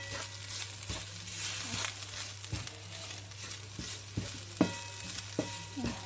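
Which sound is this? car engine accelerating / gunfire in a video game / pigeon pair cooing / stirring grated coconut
stirring grated coconut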